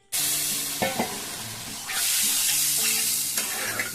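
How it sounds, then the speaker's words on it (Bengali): Warm water goes into sautéed masala for a fish curry, setting off a loud, steady sizzling hiss that swells about halfway through, with a few soft spoon scrapes near the pan. "তো আমি কষিয়ে নিলাম, এখন দিয়ে দিচ্ছি উষ্ণ গরম জল।"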